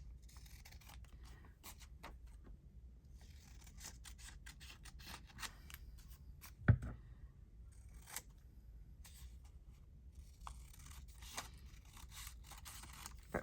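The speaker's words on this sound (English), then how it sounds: "that one I'm just going to cut with my scissors" Quiet, repeated snips and crisp slicing of scissors through paper, with one sharper knock midway, close to the microphone in an otherwise hushed room.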